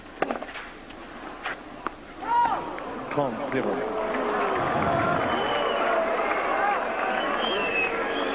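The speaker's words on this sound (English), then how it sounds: "anything close now, the crowd's getting involved." A tennis crowd at Roland Garros, during the 1995 quarterfinal between Agassi and Kafelnikov, murmurs and reacts, its noise building into a sustained roar across the second half beneath someone commentator's continuous talk.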